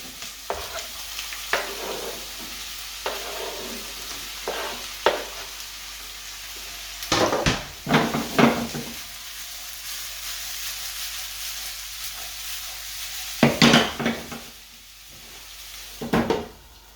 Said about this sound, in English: So I'm going to add the onions and the chilies into the pan now, and we're going to cook them through for a few minutes.